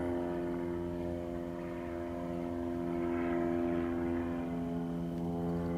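Aerobatic airplane engine droning steadily through a full roll, a continuous loud propeller hum with a strong low harmonic tone and slight shifts in pitch, with no voices.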